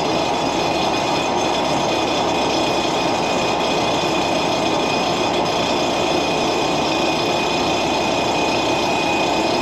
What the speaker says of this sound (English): I have a tool for this. Ratchet, a battery ratchet.